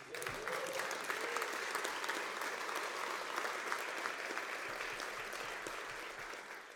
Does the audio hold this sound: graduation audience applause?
yes